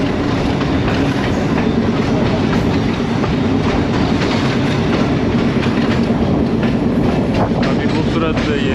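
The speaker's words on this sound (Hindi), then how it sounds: "कोट नजीबुल्लाह रेलवे स्टेशन पे अप्रोच कर रही है 267 अब रावलपिंडी पैसेंजर।" A Rawalpindi Passenger train pulls into Kot Najibullah railway station, a small hill-country stop, with a loud, close, continuous rumble and clatter of wheels and carriages throughout.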